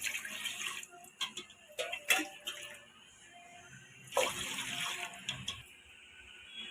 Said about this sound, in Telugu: ఇప్పుడు 2 గ్లాసుల రైస్ తీసుకున్నాను కాబట్టి 8 గ్లాసులు నీళ్ళు పోసుకోవాలి.